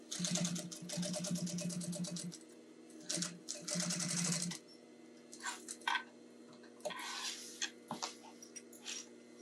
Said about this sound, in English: So I will sew down this side. Top stitch.